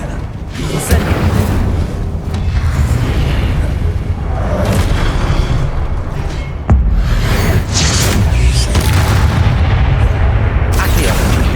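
In the Hogwarts Legacy video game, Incendio fire spells go off as loud, booming blasts and bursts, several in quick succession over a busy battle soundscape.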